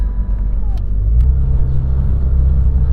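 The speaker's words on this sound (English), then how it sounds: "One final thing to test with the RS is what it's like just driving around town and over speed humps" A Porsche 911 GT3 RS with the optional axle lift creeps through town over speed humps, its engine holding a deep, steady low rumble up close with a couple of faint knocks.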